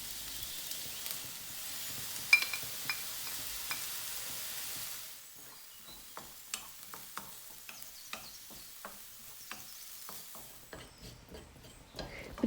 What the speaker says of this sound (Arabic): من بعد غادي نشحر بصله في شويه ديال الزيت نباتي